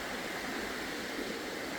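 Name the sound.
river water flowing in Glen Nevis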